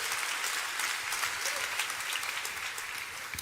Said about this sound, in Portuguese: Pode dar uma salva de palmas aí, glória a Deus.